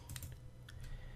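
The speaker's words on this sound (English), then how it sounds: "you hear my mouse clicking?" Computer mouse clicks, a few quick faint taps in close succession over a low steady background hum.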